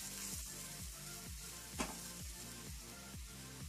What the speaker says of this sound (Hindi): इसको अच्छी तरह से मिला देना है